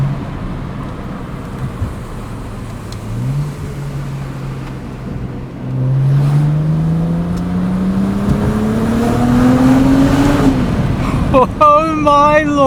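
BMW 135i with the N54 engine accelerates from inside the cabin, engine note climbing steadily through a gear with a sharp shift near the end, wind and road noise underneath and brief talk at moments.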